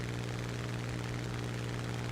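World War II A-20G bomber in the War Thunder combat game, a steady continuous propeller-engine drone with a low hum, even and unbroken throughout with no voices.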